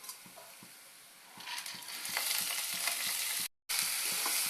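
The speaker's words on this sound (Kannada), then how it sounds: "ಈರುಳ್ಳಿ ಸ್ವಲ್ಪ ಫ್ರೈ ಆದ ನಂತರ ಮೆಣಸಿನ್ಕಾಯಿ, ಈರುಳ್ಳಿ ಫ್ರೈ ಆದ್ಮೇಲೆ ಕಾಳು ಹಾಕಬೇಕು." Onion and green chillies fry with mustard seeds in a hot pan, a steady close sizzle that swells partway through, with light stirring scrapes and a brief silent break near the end.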